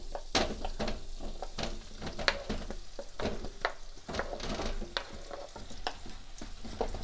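Apples frying in melted butter in a pan for a tarte tatin: a steady close sizzle runs throughout, broken by repeated scraping and clicking strokes of a stirring utensil.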